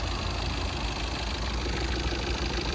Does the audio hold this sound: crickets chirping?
no